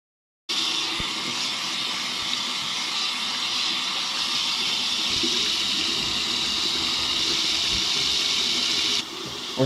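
Water runs in a steady, close rush while shampoo is rinsed out of hair, a constant hiss and splash that continues for several seconds before briefly cutting off, with no one speaking.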